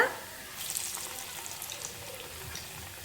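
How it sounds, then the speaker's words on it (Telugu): Black-eyed pea vadas fry in hot oil with a soft, steady sizzle and crackle, heard faintly and close, with a slightly livelier burst of bubbling early on. "వెంటనే కదపకూడదండి వాటిని, ఒక సైడ్ బాగా కొంచెం వేగిన తర్వాత మలుపుకోవాలి."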